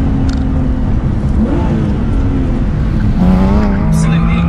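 Porsche 997.2 GT3 RS engine revving hard toward 8,500 rpm, a loud rising mechanical wail with climbing harmonics, heard under someone talking.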